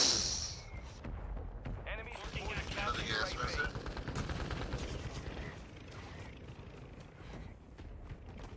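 Gunfire and mortar blasts in a tactical shooter video game, with rapid distant shots and muffled booms rolling under steady voice chat from players.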